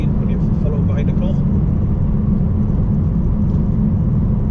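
A car drives along wet roads, a loud continuous low rumble of engine and tyres with faint hiss of spray, steady throughout, with a voice talking over it.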